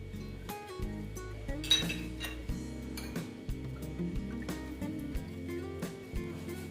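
Four metal bowls clink and tap lightly as white oil is rubbed into them, with scattered, irregular knocks over soft background music.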